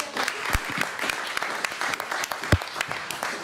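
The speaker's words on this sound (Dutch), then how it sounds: "Applaus." Audience applause at a Dutch panel discussion on the national budget, steady clapping from a crowd with distinct individual hand claps standing out, brief and fairly close.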